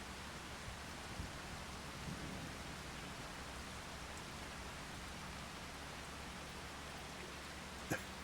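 Steady rain in a Farming Simulator 25 game world hisses as a constant, even wash of noise, with a low rumble of distant thunder underneath and a faint crackle near the end.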